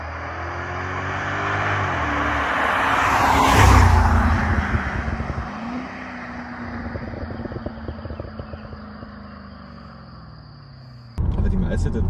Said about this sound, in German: ich gebe zwar ab und zu Gas und Kickdown